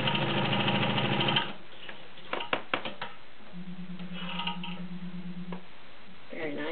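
A Kenmore 1203 heavy-duty vintage sewing machine runs a burst of rapid stitching through two layers of chiffon, then stops, followed by a few clicks and a short, quieter whir of the motor.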